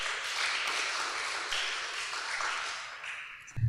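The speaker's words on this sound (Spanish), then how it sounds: "podemos darle un fuerte aplauso a nuestro experto visitante" An audience gives sustained, fairly soft applause after a talk on Darién amphibians and reptiles, a steady wash of many hands clapping that continues for several seconds before ending with a low thump.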